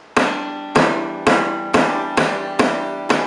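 Six sharp percussive slaps on an acoustic guitar, evenly spaced, each leaving a ringing chord that decays before the next hit.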